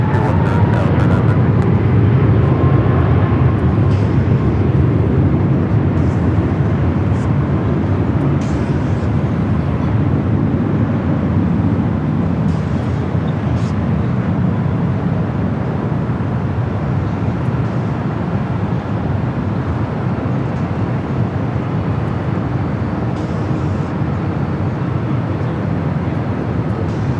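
An airliner taking off from runway 24 left at LAX, a broad continuous engine roar that stays loud and steady throughout, heard from a distance with no voices.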